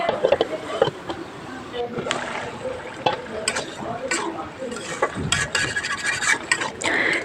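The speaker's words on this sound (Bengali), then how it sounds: "আবারও আমি নাড়াচাড়া করে লাউয়ের সাথে লবণ হলুদটাকে মিশিয়ে নিব।" Chopped bottle gourd is stirred in a pan with turmeric and salt, giving steady scraping and rubbing strokes with soft sizzling throughout, close and moderately loud with no talk.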